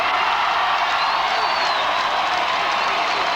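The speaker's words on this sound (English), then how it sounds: "Let's give them another cheer." A large crowd at the 1992 Chicago Bulls championship rally roars and applauds in a steady, dense wash of cheering and clapping that never lets up.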